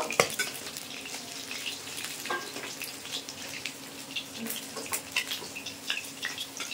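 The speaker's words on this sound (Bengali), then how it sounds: "এবার তুলে নেব, তুলে বাকি মাছটাও একইভাবে আমি ভেজে নেব।" Pieces of live magur catfish fry in oil, a dense, steady crackling sizzle running throughout with occasional clinks of utensils against the pan.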